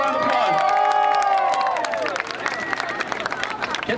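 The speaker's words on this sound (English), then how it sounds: "give it up for Kara, right? Big round of applause." Crowd at an Albanian roots street parade in Manhattan cheers for Kara DioGuardi, with voices shouting and whooping over loud hubbub, then scattered claps and applause.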